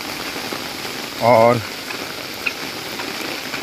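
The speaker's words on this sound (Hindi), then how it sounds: "बहुत तेज़ बारिश हो रही है" Heavy rain pours steadily in Buckingham Rose Hill, a dense, even hiss of drops hitting surfaces throughout, with a voice briefly speaking partway through.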